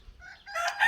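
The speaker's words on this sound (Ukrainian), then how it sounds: "Це вже мої півні співають." A rooster crows once, a short, rising call cut off quickly, moderately distant and fairly faint.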